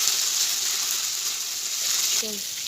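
Ground spice paste sautéing in oil with fried onions for a fish-head vegetable ghonto, a continuous close, dense sizzle with a brief scrape near the end.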